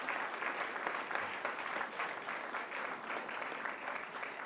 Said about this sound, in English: Let's give our candidates a big round of applause first.